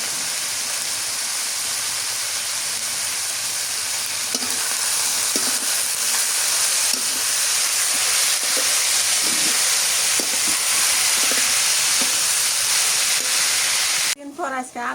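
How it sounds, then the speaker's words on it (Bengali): Small local potatoes fry in a pan with a steady, loud sizzle, broken by a string of light stirring taps before a brief clatter at the end. "আলু ভাজি করতেছি"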